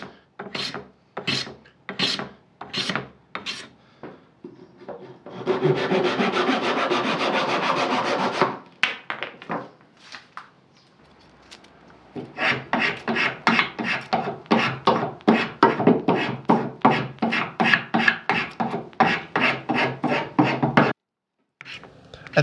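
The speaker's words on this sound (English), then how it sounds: "I'm basically filing the back end to make it nice and round" Hand file rasping a wooden bow saw handle to round off its back end: a run of sharp, regular strokes, then a long continuous rub, then a steady rhythmic series of close, loud file strokes.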